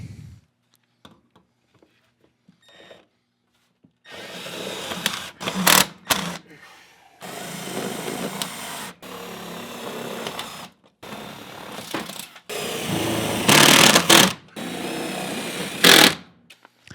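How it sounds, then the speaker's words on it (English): Screws driven into sheet-metal duct connections during a whole-house air purifier installation, heard as several separate bursts of a power driver whirring, each lasting about a second or two, with quiet gaps between them. "It's just time to put those 4 screws in each connection that I made."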